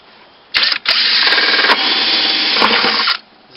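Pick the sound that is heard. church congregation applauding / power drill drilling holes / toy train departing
power drill drilling holes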